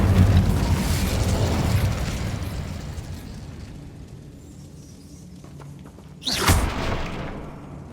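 Incendio fire spell cast in Hogwarts Legacy, a sudden loud whooshing burst that flares after a stretch of rumbling, crackling ambience and then settles into a sustained roar.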